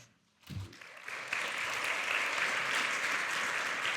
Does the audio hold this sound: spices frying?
no